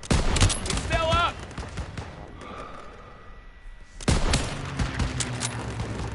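Bursts of gunfire in the World War II shooter Call of Duty: World War II, with loud rapid volleys at the start and again near the end, a quieter stretch between, and shouted voices over the shooting.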